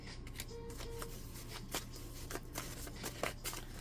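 Nearby card shuffling with repeated sharp riffles and flicks at an uneven pace over a faint steady hum.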